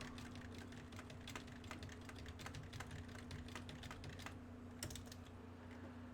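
Rapid keystrokes clatter on a computer keyboard, a dense run of close clicks that slows into sparser taps over a low steady hum, with no talking.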